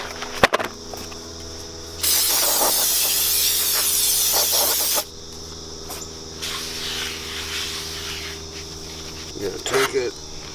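Brake cleaner sprayed onto a new brake rotor for a Chevrolet Cruze, a loud steady aerosol hiss lasting about three seconds, followed by a fainter second spray burst in a quiet garage.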